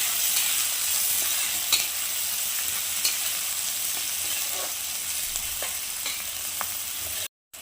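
Finely chopped carrots and capsicum sautéing in oil in a pan: a steady, close sizzle with light stirring clicks throughout, cutting off briefly near the end.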